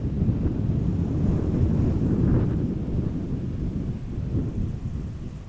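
Wind blowing steadily at Amsterdam Schiphol Airport, a loud, continuous low rumble and buffeting across the microphone with no pauses.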